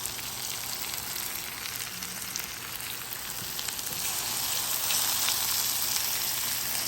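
Apples and herbed steak frying in a skillet, giving a steady, dense sizzle that swells slightly louder toward the end, with no talking.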